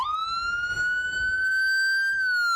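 A Pafford Medical Services ambulance in Northwest Arkansas runs its emergency siren, a loud, steady, high wailing tone that holds and slowly rises in pitch throughout, heard close and alone without talk.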